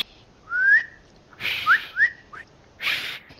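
Short whistled notes from a character in the Spider-Man 2 video game, three or four brief rising chirps with breathy bursts between them, clear and close with no talking.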